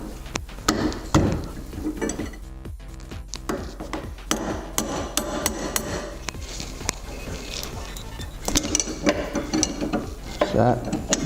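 A wrench works at a stuck top nut on a GTO strut, producing rapid ratcheting clicks and metallic knocks, close and busy with brief pauses and no talking.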